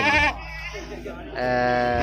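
A large, heavy Boer goat bleating at a morning livestock market, two drawn-out, wavering calls close by, separated by a short gap filled with crowd noise and background voices.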